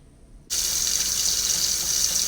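A tap turned on for a water test of a Lifeproof phone case: after half a second of quiet the water starts abruptly into a steady, hissing gush that runs on evenly, close by.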